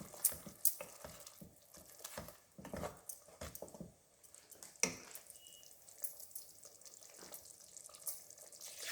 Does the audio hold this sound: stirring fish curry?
yes